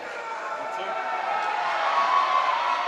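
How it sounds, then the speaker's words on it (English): A large crowd at a pro wrestling show in Lower Hutt roars and cheers steadily throughout, a dense wash of voices that swells slightly toward the end. "Listen to the crowd here in Lower Hut"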